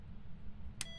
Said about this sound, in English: Oh, it's beeping.